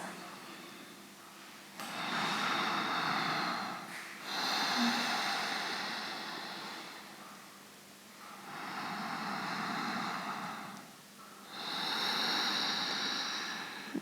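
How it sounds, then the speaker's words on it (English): Slow, deep breathing in a quiet yoga session, long airy inhales and exhales in an even rhythm, about four full breath cycles, close and soft with no talking. "taking 2 more slow, deep breaths"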